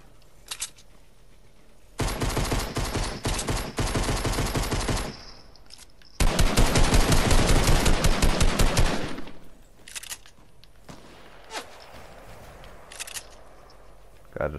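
Rapid automatic gunfire in the video game Fortnite, two long loud bursts of shots with brief single shots before and after, close and dominant, no talk.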